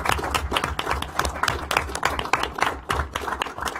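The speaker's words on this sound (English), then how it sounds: "let's give these two a round of applause." Applause from a government meeting audience, dense steady clapping from many hands filling the room throughout, loud and close with no talk over it.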